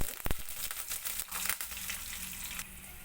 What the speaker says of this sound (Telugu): తాలింపు ఫ్రై అవుతూ ఉంది